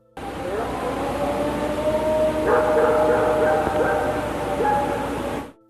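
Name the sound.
dog howling and barking at night in Ohio forest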